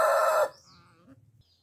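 Chickens kept under an orange tree give a loud burst of clucking and crowing for about half a second, then fall away to quiet scattered background sounds.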